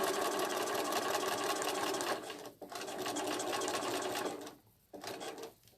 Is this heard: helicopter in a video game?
no